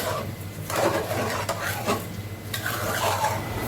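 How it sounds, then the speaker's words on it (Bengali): Khichuri is stirred and fried in a pot on a stove, with a spoon scraping and knocking through the thick rice and lentils over a soft, steady sizzle, close and moderately quiet. "খিচুড়িটা উঠাই দেব চুলার উপরে ভালো করে কষিয়ে নেব"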